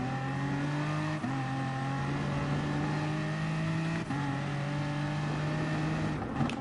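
A number 18 BMW race car in GT Sport at the Nürburgring GP circuit: a loud, steady onboard engine drone holding high revs, with two quick gear-shift dips, and no talking over it.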